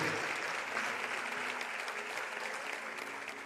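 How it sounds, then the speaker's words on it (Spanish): Congregational applause in a church during a sermon, a continuous wash of many hands clapping at moderate loudness, steady and unbroken throughout the short stretch. "Dale ese aplauso al Señor"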